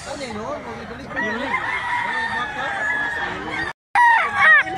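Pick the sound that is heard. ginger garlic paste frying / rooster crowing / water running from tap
rooster crowing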